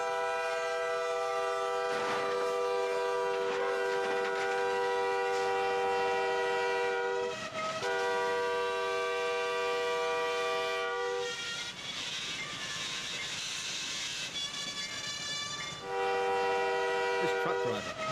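A 4,000-ton train passing over a crossing sounds its horn in long sustained blasts, one stretching several seconds and later ones shorter and more broken, over a steady rolling rumble of the rail cars.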